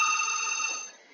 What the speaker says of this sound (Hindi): मेरा भी यहाँ पर शायद रूम की घंटी बज रही है